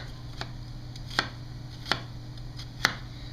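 A chef's knife cuts through a whole peeled onion on a cutting board. There are several sharp, separate chops spaced about a second apart over a low steady hum, with no talking.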